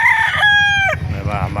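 A kanawayan gamefowl rooster at the Bocaue, Bulacan chicken market crows once loudly and close, a strained rising call that breaks off, followed by clucking and market chatter.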